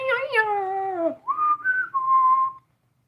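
A person whistles in imitation of a bird, starting with a long, clear tone that slides slowly downward, then a few short rising and wavering notes. The whistling is close and clean and stops abruptly, followed by silence.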